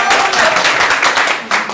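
An audience claps in a hall during a personality development session, a short dense burst of applause with no talk over it.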